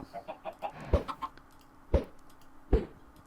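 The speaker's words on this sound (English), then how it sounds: "We'll just get rid of that chicken." A chicken in the video game Minecraft clucks in a quick run of soft calls, with three louder, sharper pops spaced about a second apart, close and clear.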